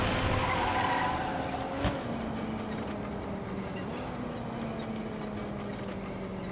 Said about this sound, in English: Nice motorcycle.